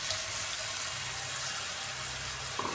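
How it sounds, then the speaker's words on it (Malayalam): Water poured into a pan during cooking of a Kerala-style prawn roast with tomatoes, a steady close splashing pour that ends abruptly. "ഇതിലേക്ക് കുറച്ച് വെള്ളം കൂടെ ഒന്ന് ഒഴിച്ച് കൊടുക്കുവാണ്."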